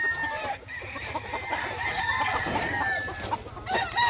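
A rooster crows loudly nearby at a gamecock breeding yard, mixed with repeated clucking from surrounding fowl and a faint background murmur.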